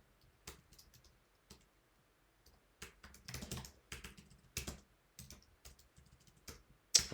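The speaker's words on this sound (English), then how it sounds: "What's going on with my keyboard? I can't type in this position." Typing on a computer keyboard in scattered bursts of close, crisp key clicks with pauses between, fairly quiet and with no talk.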